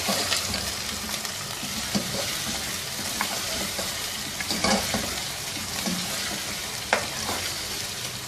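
Goat meat sizzles in a pan for Peshawari namkeen gosht, a dense continuous frying hiss broken by occasional scrapes and knocks of stirring, close up with no talking.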